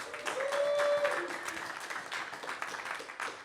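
An audience applauds to welcome Paul Rice, founder of Fair Trade USA, at an evening talk; steady dense clapping fills the room at moderate level, with a brief tonal sound near the start and some voices mixed in.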